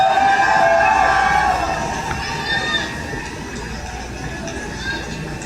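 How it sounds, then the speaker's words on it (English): A crowd cheers and shouts through an amplified recording, loud at first and then settling lower, with a steady wash of voices and no clear separate talk. "And look, I hate to hear that cheer."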